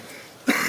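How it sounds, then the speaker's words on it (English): A single sharp cough from someone with a cold, close and loud, rising suddenly out of quiet room tone at a naming ceremony. "sorry you guys got a bit of a cold and a cough"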